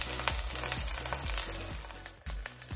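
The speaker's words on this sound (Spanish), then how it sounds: "en otra cacerola, con un poco de aceite, vamos a agregar nuestro lomo para poderlo sellar muy bien" Pork loin searing in hot oil in a pot gives a steady, close sizzle with crackling spatter throughout and a few soft knocks of the pan, with no talk.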